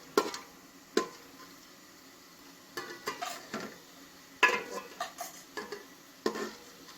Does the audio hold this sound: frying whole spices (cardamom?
yes